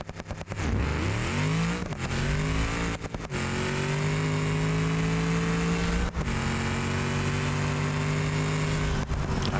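Game car in BeamNG with a 500-shot nitrous system on a manual gearbox, engine revving hard through several upshifts with brief cuts between gears, loud and close with a rising, strained tone and no talking.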